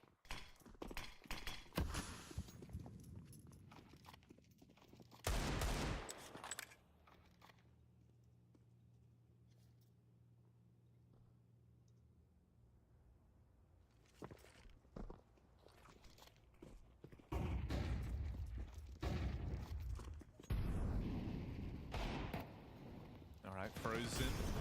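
Pistol fire during a Counter-Strike eco round, with sharp shots and short bursts near the start and again near the end, separated by a quieter middle stretch, under a caster talking.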